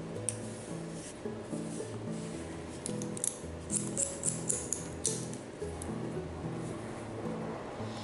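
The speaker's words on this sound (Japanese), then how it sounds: "この辺もね同様ね同じように後ろにダイレクションかけて切っていきましょう" Hairdresser's scissors cut long hair down toward a short bob, giving a quick run of faint, crisp snips over a quiet tonal background.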